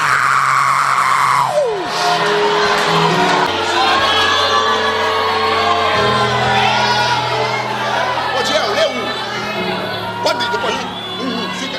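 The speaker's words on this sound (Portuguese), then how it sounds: "dá um grito de glória para Deus" A church congregation shouts and cheers glory to God in a loud, sustained roar of many voices, with whoops and yells rising and falling throughout.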